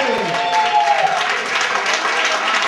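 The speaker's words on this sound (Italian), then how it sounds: "Facciamo un applauso," A crowd at a Cuban salsa dance competition applauds a placed couple, dense clapping mixed with cheering and a prominent voice calling out over the noise, loud and close.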